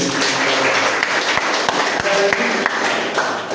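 Audience applause in a seminar hall at a lecture session, steady dense clapping filling the whole stretch, loud and close, with a few sharper individual claps standing out and faint voices underneath.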